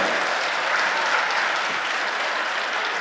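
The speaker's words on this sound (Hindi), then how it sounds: "इनको तालियों में तब्दील कर दीजिए" Audience applause at a Hindi poetry recital (kavi sammelan), a steady dense wash of many hands clapping together, fairly near and even in level throughout, with no talk over it.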